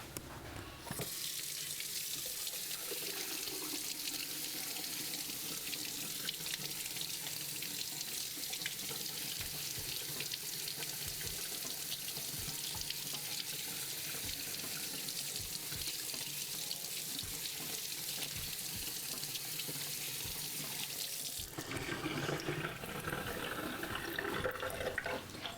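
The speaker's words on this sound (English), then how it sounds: "we always wash celery because there's always dirt on the bottom of it" Kitchen faucet running steadily into a sink while celery is washed, a constant close hiss of flowing water that shifts in tone near the end as the stream is moved or the tap adjusted.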